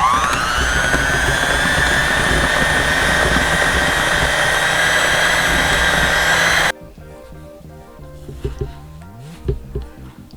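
An electric hand mixer whirs loudly and steadily as it whips a sugar scrub, then cuts off abruptly partway through, leaving quieter scraping and handling noises.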